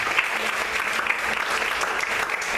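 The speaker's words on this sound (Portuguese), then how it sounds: "Vamos aplaudir o Senhor." A church congregation applauds in steady, dense clapping, loud and sustained throughout, with faint voices underneath.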